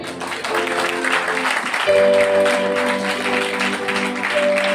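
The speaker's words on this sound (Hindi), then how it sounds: "ताली बजाएंगे।" A church congregation at a Christmas service claps in a dense, steady burst of applause that holds for several seconds while musical keyboard tones sound underneath.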